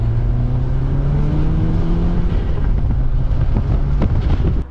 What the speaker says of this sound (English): driving along right now, it could be any hatchback that hasn't got a huge amount of sound deadening